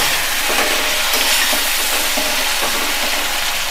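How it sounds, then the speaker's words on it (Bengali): Potatoes frying in oil in a pan, seasoned with salt and turmeric, hissing and sizzling steadily up close, with faint stirring scrapes. "আলুগুলো একটু নাড়াচাড়া করে ভালো করে মচমচে করে ভাজতে হবে।"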